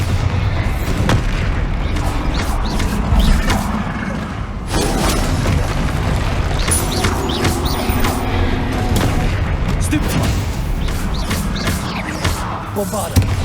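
Bombarda blasting spells exploding in Hogwarts Legacy combat, a dense run of loud booms and crackling impacts piling up continuously, with game voices calling out amid the blasts.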